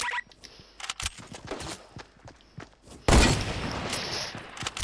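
Sniper rifle fire in the Fortnite video game: a burst of loud, sharp gunshots and crackling reports after a quieter stretch of scattered clicks and thumps, close and prominent.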